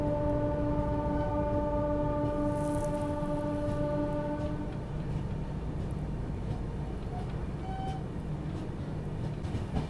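An express train rumbles steadily along the rails with a continuous rolling drone, and a sustained horn blast sounds over the first half before fading into the running noise.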